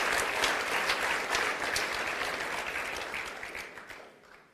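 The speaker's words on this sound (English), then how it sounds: "a much stronger applause, please, for these beautiful young men" Sustained applause from a large audience for a rugby league team, dense and steady clapping that holds strong, then gradually fades toward the end.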